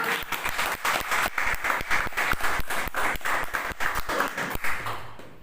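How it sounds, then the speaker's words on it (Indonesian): Rhythmic clapping from an audience honoring a speaker at a seminar, a brisk, even series of sharp claps close by that fades out at the end. "Tepuk tangan untuk Kamas kita Paulus Edi Praito"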